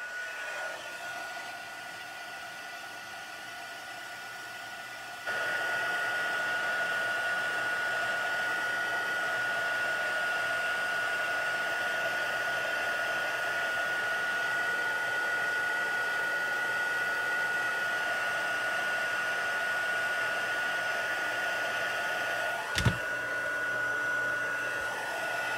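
A heat gun melts white embossing powder on black cardstock, giving a steady, close whooshing blow with a thin whine that grows louder after a few seconds and runs on with a brief knock near the end.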